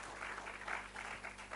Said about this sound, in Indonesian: Bisa beri tepuk tangan buat Tuhan kita.